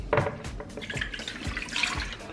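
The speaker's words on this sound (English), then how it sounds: "So I'll throw the plant milk in" Plant milk poured into a mixing bowl while making a vegan batter, a brief close liquid splash and trickle lasting a couple of seconds with a faint clink.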